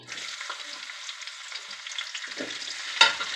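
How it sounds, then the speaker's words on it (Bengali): Chopped garlic dropped into a pan where chicken was just frying, giving a steady broadband sizzle with a brief stirring scrape and one sharper crackle near the end. "এখন আমি এর মধ্যে কিছু রসুন কুচি দিচ্ছি"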